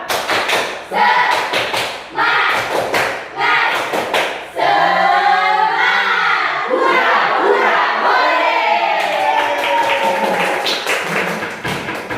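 A classroom group performs a rhythmic spirit clap: bursts of sharp clapping in patterned beats, then a stretch of loud shouting and cheering, with clapping returning near the end.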